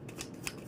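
Tarot cards being shuffled during a card reading, a quick close riffle of a few soft papery bursts in under a second, with no talking.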